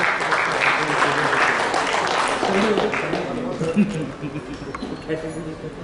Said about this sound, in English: So a round of applause for the winners.